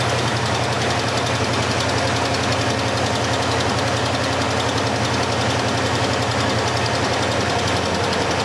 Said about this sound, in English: I hear a little bit of a ticking, but I think it's maybe coming from that alternator.